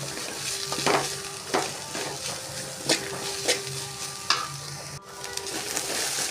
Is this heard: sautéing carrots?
yes